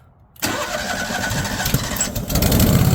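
A small engine catches after a short quiet lead-in, then runs on as a steady mid-pitched drone close by, the choke eased in partway.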